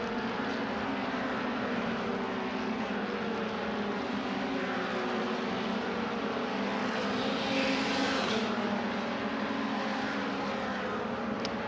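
A racing car in the MRF 2000 race accelerates hard down the straight toward a corner, a steady, loud engine roar that holds for the whole stretch with a slight swell near the end, with no talk over it.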